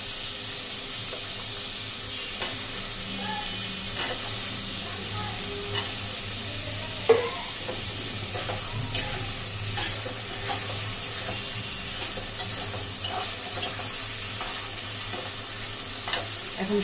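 Potatoes sizzle and fry steadily in a pan alongside hilsa fish, with occasional stirring clatter and a louder scrape partway through, continuous and close with no talking.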